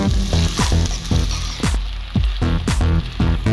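Vegetables frying for veg pulao crackle loudly in a hot pan, with a dense sizzle broken by repeated scraping stirs that come in a quick, uneven rhythm close by.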